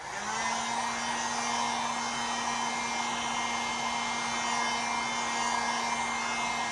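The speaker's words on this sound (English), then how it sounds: "I'm going to go ahead and hit it with a dryer." A hair dryer blows over water-based stain on a rub-on transfer Christmas decor piece, a loud, steady, close whine held throughout with no talk.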